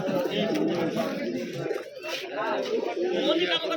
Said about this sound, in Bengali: কবুতর ভরপুর কালেকশন আসছে হাটে